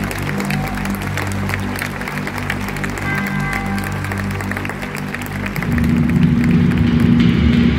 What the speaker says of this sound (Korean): 응원의 박수로